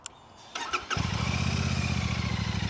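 Twin-cylinder engine of a 2025 Royal Enfield Classic 650 motorcycle cranks briefly, then catches and settles into a steady, loud, deep throbbing idle, heard close from the rider's seat.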